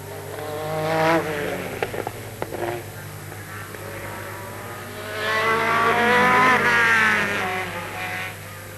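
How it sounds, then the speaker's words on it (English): A Sauber Mercedes race car pulling into the pit lane at Le Mans in 1991, its engine note rising and falling as it slows and passes close by, with a second burst of revving later over a constant background hum. "Sauber Mercedes looking for the pit lane and finding it"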